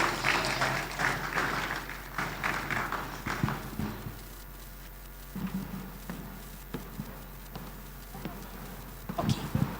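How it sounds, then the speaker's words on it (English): Audience applause at a CEO forum on leadership in tough economic times, a dense burst of clapping that fills the opening seconds and then thins out into scattered claps under a voice that carries on talking. "If you're clapping for her, maybe we should just do it well."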